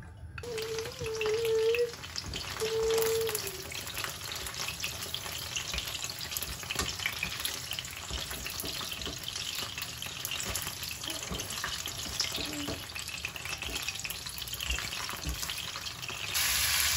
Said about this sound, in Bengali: আগে আমি কোফতাটা ভেজে নিব একটু করে